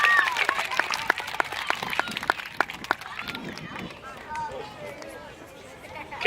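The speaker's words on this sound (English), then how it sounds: "Let's give him a round of applause." An outdoor Arbor Day crowd greets Smokey Bear with applause, scattered clapping in the first half that fades into crowd chatter and children's voices.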